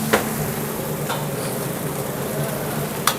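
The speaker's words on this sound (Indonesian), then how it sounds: "Kita lanjut lagi ke nasi goreng kari, masuk minyak wijen, terus ada kecap ikan" Curry fried rice with sesame oil and fish sauce fries in a busy restaurant kitchen as a steady hiss and sizzle, with a few sharp clanks of a spatula striking the wok.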